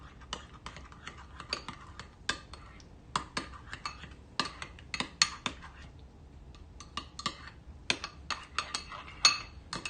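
Lemon juice is mixed into a cream sauce in a bowl, and a utensil makes quick, irregular clinks and scrapes against the bowl, close and fairly quiet, in busy bursts with short pauses.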